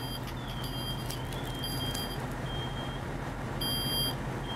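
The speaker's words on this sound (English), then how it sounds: "Smoke detector is activated." A steady high-pitched electronic smoke detector beeping repeats at regular intervals over a constant low mechanical hum, in a room during a home fire sprinkler demonstration.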